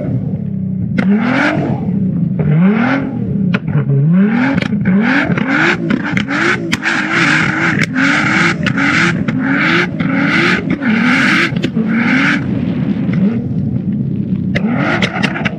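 A car's exhaust revs loudly and repeatedly, rising and falling in a steady series of throttle blips close by, with no talk over it.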